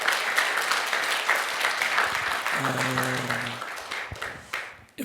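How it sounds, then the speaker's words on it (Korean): A church congregation claps together during worship, a steady wash of applause that thins and fades toward the end, with a brief low tonal sound in the middle. "박수 한번 쳐주세요."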